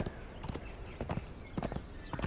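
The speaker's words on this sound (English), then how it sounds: "The zebra horse." A zebra horse walks in Conan Exiles, its hooves clip-clopping in a steady, moderately faint rhythm of repeated hoof strikes.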